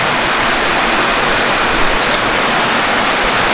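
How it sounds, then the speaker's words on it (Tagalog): Heavy rain pours steadily and loudly at an outdoor spot, a dense even hiss with no voices. "Ay, lumakas ang ulan."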